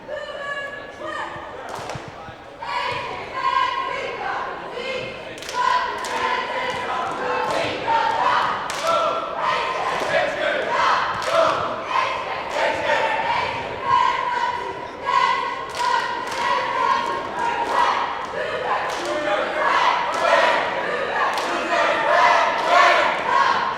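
Enthusiastic crowd at a girls' high school basketball game chants along with cheerleaders, a steady loud roar of voices with rhythmic claps, thumps and bouncing balls throughout.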